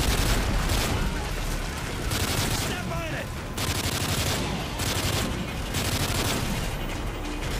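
Sustained gunfire and explosions in the Call of Duty Modern Warfare 3 video game, a loud continuous barrage of automatic shots and booms with a brief lull midway, and voices faintly under it.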